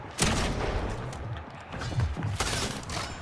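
Gunfire in a Fortnite-style box fights video game, sharp bursts of shots at the start and again near the end with busy game noise in between, loud and close.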